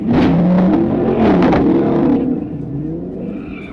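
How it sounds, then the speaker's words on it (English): A red Dodge Charger's engine roars loudly and steadily, fleeing police after drifting in a mall lot, with a sustained revving rumble that eases slightly toward the end. "When lights flashed, a red Dodge Charger fled"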